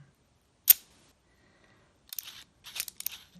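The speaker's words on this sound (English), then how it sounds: "And we're in bulb setting, so I'll trip the shutter." A sharp mechanical click of a Leica M3 camera shutter tripped on bulb setting, followed a moment later by a few quieter clicking and ratcheting sounds in near silence.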